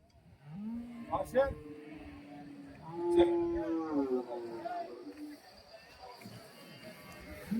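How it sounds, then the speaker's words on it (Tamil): Water buffaloes at Bagalur cattle market moo in long, low calls, one drawn-out bellow followed by several more, moderately close amid background market chatter. "உள்ளே வந்து நிறைய எருமைங்க வந்து பிடிச்சி நின்றுட்டு இருக்காங்க"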